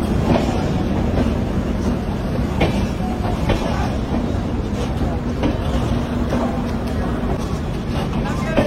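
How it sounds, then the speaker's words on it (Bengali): Duronto Express 12273 rolls into platform 12 at Howrah station, a steady loud rumble of wheels and carriages with faint clatter throughout, set in busy station ambience. "হাওড়ার 12 নম্বরে ঢুকলো 12273 দুরন্ত এক্সপ্রেস।"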